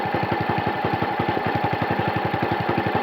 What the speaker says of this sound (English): it does appear to be running better than it did before